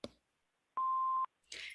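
An answering machine gives a single steady electronic beep lasting about half a second, clean and clear. A brief clipped sound comes before it and a burst of noise follows.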